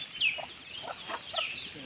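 Native chickens and chicks cluck nearby, with soft repeated clucks and thin high chick peeps in a short, lively stretch.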